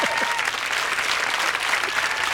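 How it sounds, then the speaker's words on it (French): Studio audience on a French hidden-camera television show applauding, a dense steady wash of many hands clapping at full strength throughout, with a faint voice briefly audible near the start. "je profite, chers clients de ce plateau, pour vous demander d'applaudir quelqu'un qui est dans le public"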